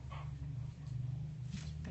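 A cocker spaniel at the vet gives soft, continuous whimpering and low whining throughout, fairly close, with a steady murmur of room sound beneath it.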